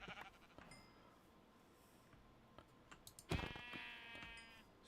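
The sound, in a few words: sheep bleating in a video game (NomiFactory Minecraft modpack)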